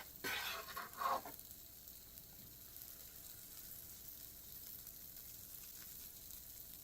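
Vanilla pancake batter sizzles in a pan, with a brief louder hiss and splatter as it first goes in, then a soft, steady frying hiss that carries on alone.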